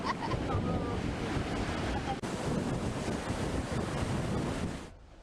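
High sea waves and strong wind batter a beach at Randusanga Indah in Brebes, where a coal barge has run aground, producing a loud continuous roar of surf and gusting wind buffeting the microphone before cutting off abruptly near the end.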